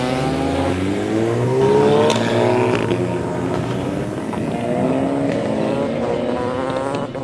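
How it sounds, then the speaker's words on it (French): A motorcycle engine revs up and down in rising and falling sweeps, loud and close, with sharp pops scattered through it like backfires. "c'est le bruit du moteur qui claque avec les retours de flamme"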